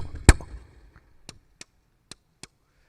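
Voice imitation of a beatboxed hi-hat: a louder breathy burst near the start, then four short, crisp clicks spaced evenly apart, close and isolated in otherwise quiet surroundings.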